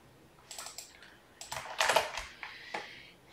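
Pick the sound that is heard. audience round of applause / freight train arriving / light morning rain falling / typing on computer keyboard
typing on computer keyboard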